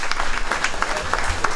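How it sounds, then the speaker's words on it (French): Steady audience clapping for Santi Gauguin at an FSGT Sarthe podium ceremony in Marolles-les-Braults, a dense, continuous patter of many hands with a few louder bursts, fairly close. "Donc applaudissements pour Santi Gauguin."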